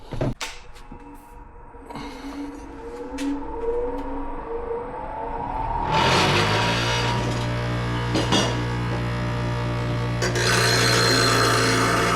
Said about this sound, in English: use the sanding stone, and we will sharpen these blades